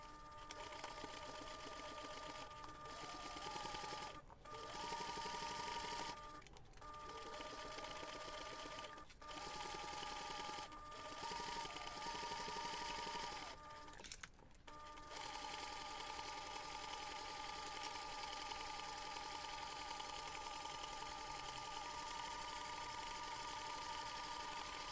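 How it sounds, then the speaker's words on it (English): A sewing machine top stitches along a finished seam of a laptop bag, its motor running in a steady, even whir with a few brief stops and restarts. "take this to the machine, and then you're going to top stitch along that finished seam"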